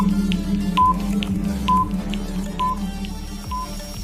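Mobile phone keypad dialing tones sound as a steady series of short, evenly spaced beeps, each press clear and close, over a soft continuous background bed.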